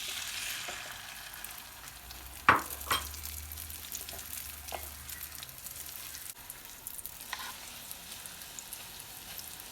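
Egg batter for small omelettes frying in a pan, a soft steady sizzle with a couple of sharp utensil clinks near the start, no talking.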